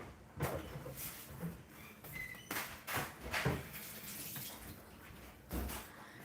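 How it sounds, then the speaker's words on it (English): Hands being washed under a running kitchen tap: fairly faint, continuous water flow with irregular splashing surges as the hands move through the stream. "I'm going to wash my hands."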